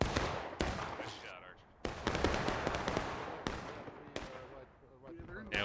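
Musket fire in the Civil War video game War of Rights at a large 300-player battle: several sharp, loud reports crack at irregular intervals, some near and some farther off, with faint voices in the background.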